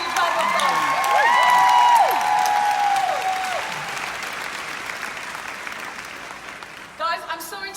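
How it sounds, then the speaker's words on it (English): Big round of applause from a crowd at a convention, dense clapping mixed with cheers, whoops and shouts, voices rising above the noise, then fading, before a speaker resumes talking near the end. "So let's give another big round of applause."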